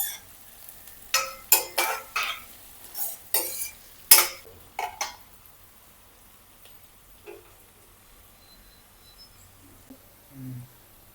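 Mint leaves fry in a pan and are stirred with a utensil, making a quiet sizzle broken by a burst of sharp scraping clinks early on, then fading to sparse, soft taps.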